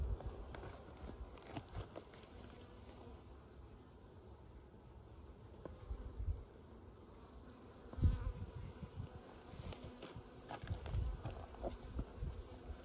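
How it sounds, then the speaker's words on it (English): Honeybees buzz steadily around a hive, a constant close hum with occasional louder thumps and rustles of handling nearby. "So you can see all these bees up here."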